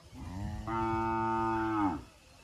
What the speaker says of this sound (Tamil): அவங்க அம்மா போகிறாங்கன்னு கத்துது ஒரு